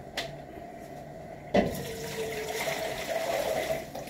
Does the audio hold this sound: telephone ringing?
no